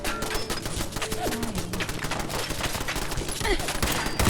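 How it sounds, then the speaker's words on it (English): Rapid volleys of gunfire from the video game Fallout 4, loud, dense bursts of shots filling the whole stretch with near-continuous crackling fire. "Opening fire."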